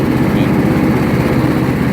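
A Toro LX420 lawn tractor engine runs loud and close while its power is adjusted, a steady, throbbing mower-like drone with a rapid pulsing beat.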